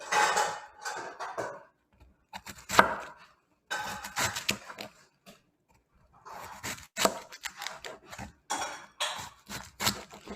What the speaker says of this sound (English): And as I go along, I can change the direction of, how I'm slicing. But basically, we want these linear slices of cabbage.